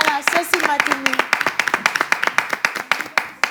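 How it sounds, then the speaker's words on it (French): Audience clapping at a live stage show, a run of sharp, distinct hand claps that starts quick and ragged and settles into a steadier beat, with people talking over it. "applaudissez quand même, parce que ça, c'est pas gratuit"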